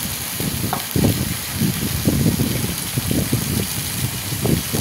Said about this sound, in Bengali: দিয়ে দিলাম আদা রসুন বাটা, এই যে লাড়িয়ে দিলাম